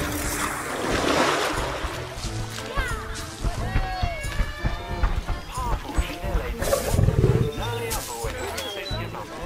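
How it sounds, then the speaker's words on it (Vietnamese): A lion with a very large mane roars amid dense, layered animal and water noise, with several loud rumbling bursts spread across the stretch and a voice talking over much of it. "Ấy một chú sư tử các bạn ơi"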